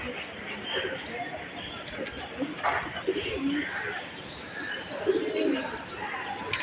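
Pigeons coo softly in repeated low murmurs around a house, with faint bird calls and a background hum running through; no wingbeats stand out clearly.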